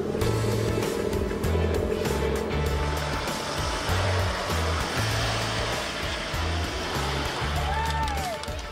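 Holden Trailblazer climbing a hill in low-range four-wheel drive on Fraser Island, its engine a pulsing, uneven drone that swells and drops with throttle, mixed with rushing wind or wheel noise, at moderate loudness.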